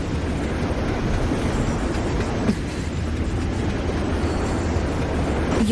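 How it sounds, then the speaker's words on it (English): A Night City train rumbles continuously with a low, steady roar and faint rattling in the Wuthering Waves game, loud and close, with no voices. "What's a Night City train doing behind a door?"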